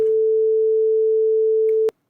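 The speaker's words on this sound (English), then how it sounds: "Then back to the 440 hertz sine wave" A pure 440 Hz sine tone sounds steadily and loudly for about two seconds before stopping sharply with a click, followed by near silence.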